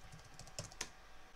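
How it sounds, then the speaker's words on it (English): A handful of keystrokes on a computer keyboard while entering input for a Node app, soft close clicks in quick succession with two louder taps, no talking. "we are prompted to type in something"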